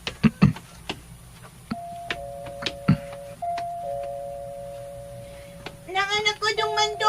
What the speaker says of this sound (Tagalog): Mag-doorbell na lang ko.